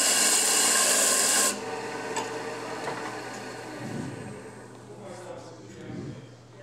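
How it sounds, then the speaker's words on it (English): Hand sanding of wood on a segment jig, soft repeated rasping strokes at close range after a loud opening burst, with a voice talking over parts of it. "I am going to do, for the purpose of this, a little bit of sanding"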